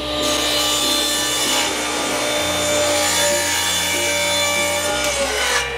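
A power saw whines steadily while cutting through wood, the grinding, buzzing tone shifting slightly in pitch as the blade works; loud and close, no talking.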